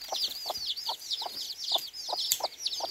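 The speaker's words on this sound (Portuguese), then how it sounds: "E as galinhas elas ficam por aqui" Free-ranging farm chickens cluck in a quick repeated rhythm with bright overlapping calls, close and lively, with no talk over them.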